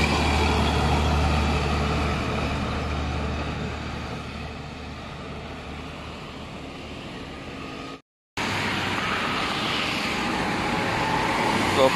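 An angle-double Hino truck passes on a highway, its engine and tyre roar making a loud, continuous rumble among other road traffic, broken by a brief cut, with a voice talking over it.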